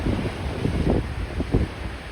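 Wind buffeting a microphone over steady ocean surf on the North Shore of Oahu at Sunset Beach during big 10 to 15 foot waves, with a few low rolling swells of wave wash rising and falling beneath the constant gusty roar.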